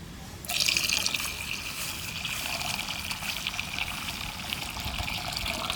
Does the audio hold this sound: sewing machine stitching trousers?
no